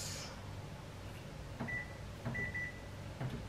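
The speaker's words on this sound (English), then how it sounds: "Microwave, cook by time," A microwave's keypad beeps a few times in short electronic tones as cook-by-time is set, then the oven starts with a low steady hum under a faint background hiss.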